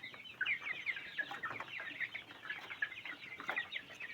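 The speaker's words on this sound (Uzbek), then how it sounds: "Mana jo'jalarni tomosha qilib olishingiz mumkin." Small hatchling chicks give a quick run of high, thin cheeps, close by and soft, chirping repeatedly without pause and with no talk over them.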